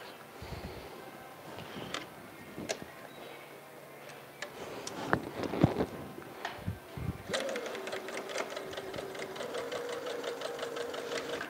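A sewing machine pieces a pyramid quilt block with Aurifil thread. A few scattered handling knocks come first, then a steady run of rapid, even mechanical ticking from the stitching, close and moderately loud.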